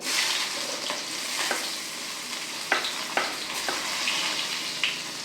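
Chopped onion frying in oil with cumin for a tomato chutney, a close, steady sizzle broken by several sharp scraping stirs of a spoon against the pan.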